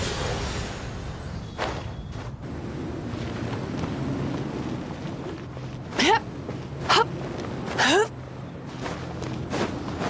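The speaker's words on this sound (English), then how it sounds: "Look, a wind current." A whooshing wind current in the video game Genshin Impact, heard as a steady airy rush under low rumbling game ambience, with a few short bright swooshes near the end.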